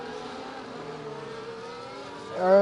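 A McLaren race car in a racing video game at Circuit of the Americas, its engine droning steadily at mid distance heading into turn 11, then rising sharply in a louder rev at the end.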